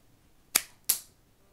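Two sharp snapping shots from a homemade pencil shooter pen gun, spaced about a third of a second apart, each a crisp close crack with a quick decay in an otherwise quiet room.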